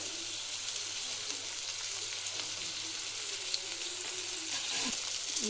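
Raw mango pieces frying in oil with green peas and onion for mango chitranna, a steady close sizzle with soft stirring and no talk.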